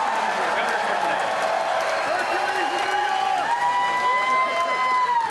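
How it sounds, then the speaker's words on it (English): Comic-Con 2012 audience cheers and applauds Governor Schwarzenegger, a broad, steady crowd roar with whoops and clapping, overlaid by a sustained rising tonal sound in the hall. "Round of applause for Governor Schwarzenegger."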